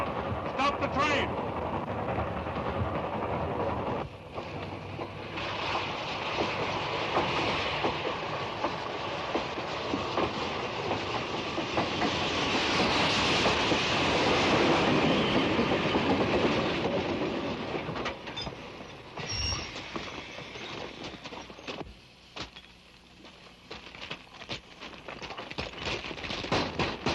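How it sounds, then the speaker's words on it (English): A train rumbles along the rails with steady rhythmic clatter and rolling noise, loud and continuous, swelling in the middle before easing off. "Engineer, stop the train."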